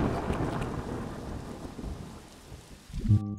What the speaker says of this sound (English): I love seeing the lightning start fires